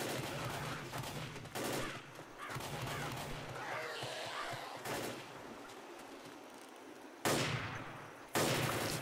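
Hunting rifle shots ring out in the Left 4 Dead video game during the farmhouse finale, loud sharp cracks separated by gaps, layered over continuous gunfire and chaotic game noise.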